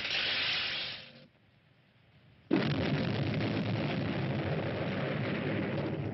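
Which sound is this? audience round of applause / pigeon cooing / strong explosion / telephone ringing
strong explosion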